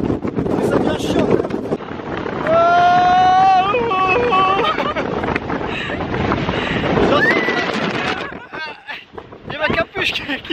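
Strong wind buffets an outdoor microphone on a gusty day at Kenting, southern Taiwan, a loud, continuous roaring rumble, with people talking over it.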